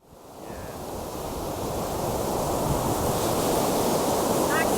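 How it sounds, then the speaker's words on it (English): Surf rolls and wind roars steadily on a cold, windy beach, a dense broadband wash that swells in over the first second and then holds loud and close, with gusts buffeting the microphone. "I'm on this very cold and windy beach"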